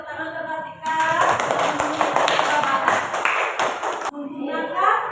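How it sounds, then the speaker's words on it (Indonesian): A class of children claps together for a classmate who gave a correct answer in a school lesson: a dense burst of many hands lasting about three seconds, close and loud, framed by a teacher's voice before and after. "tepuk tangan ke Kartika"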